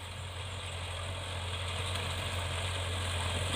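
A farm tractor used for rice field plowing idles with a steady low rumbling drone and faint vibration, constant and fairly close, with no voices over it.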